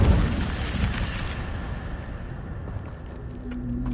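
An Incendio fire spell in the Sith Bane game goes off as a loud, deep burst right at the start, then fades into a rumbling, crackling roar over a few seconds.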